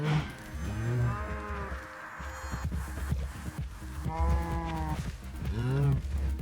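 Cows mooing in a Minecraft biome: several drawn-out, tonal moos rise and fall one after another at a moderate distance, with faint game background noise between the calls.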